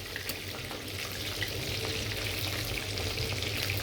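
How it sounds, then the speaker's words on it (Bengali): Chicken frying crisp in hot oil, an even, continuous sizzle with fine popping and crackling heard up close, no voices over it. "আমার মুরগিটা একটু হবে ভাজা, একদম মচমচ হয়ে গেছে। দেন এখনই শব্দটা কত সুন্দর আসছে।"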